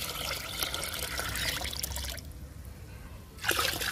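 Diluted liquid plant treatment for flowering plants being poured into buckets, a steady splashing stream for about two seconds that stops, followed by a quiet pause and a brief splash at the end.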